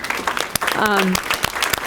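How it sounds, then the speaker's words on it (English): Applause for a teacher, the National Junior Honor Society sponsor, at a school board meeting, a brief burst of clapping from the audience with a voice speaking over part of it. "So Kristen, we applaud you and everything that you do right there."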